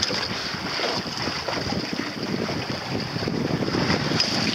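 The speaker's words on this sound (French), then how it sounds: "Oh, il y a des vagues, il y a des vagues," Sailboat at sea around Callot island, with steady wash of waves and rushing water along the hull, mixed with strong wind buffeting the microphone, continuous and fairly loud with no voices.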